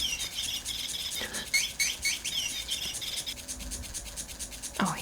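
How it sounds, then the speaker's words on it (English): A cat's bird toy lets out a string of quick, high chirps and tweets after being knocked, sounding close and fairly faint against a quiet room with light scratchy rustling. "sorry, I hit my cat's bird toy."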